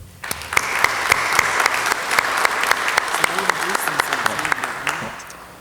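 Audience applause at a university debate night for Union County candidates, a steady wash of clapping in a hall that holds for several seconds, with a few sharper individual claps standing out and faint voices beneath.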